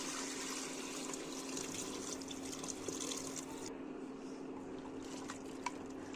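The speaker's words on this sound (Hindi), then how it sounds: "अब इसमें जाएगा वाटर" Water pours into a pot of Kashmiri-style soup, a steady soft splashing stream with a constant low hum behind it and no talking.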